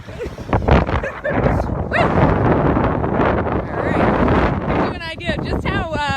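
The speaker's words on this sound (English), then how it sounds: "Just how windy it is out here." Heavy wind roars across the microphone in strong gusts at a beach at low tide while a person talks over it, with a short burst of higher voices near the end.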